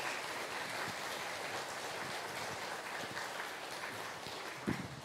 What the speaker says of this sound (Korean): 힘차고 뜨거운 격려의 박수 부탁드립니다